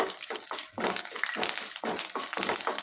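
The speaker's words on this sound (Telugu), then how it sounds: "మినపప్పు శనగపప్పు అలాగే ఎండుమిరపకాయి కరివేపాకు ఇవి వేసి వేయించుకోవాలి" Urad dal, chana dal, dried red chillies and curry leaves crackling in hot oil, a busy spattering sizzle with rapid pops, fairly quiet and close, no talk.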